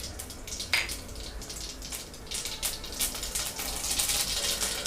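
Mustard seeds frying in hot oil in a kadai for Tamil beetroot rice, making a steady crackling sizzle that builds louder toward the end, with a few sharper pops.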